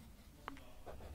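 A pen writes in a journal in a quiet room, giving a few faint, brief scratching strokes over soft background hiss.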